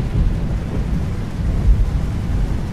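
Rain falls steadily outside a parked car, a dense, low rumbling wash of constant level with no voices.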